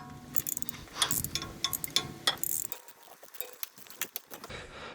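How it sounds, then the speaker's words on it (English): A ratchet loosening 13mm starter bolts on a Camaro, with rapid close clicking bursts in a steady rhythm, then brief pauses and lighter metallic ticks. "We're gonna go ahead and unscrew these 2, and these are 13mm"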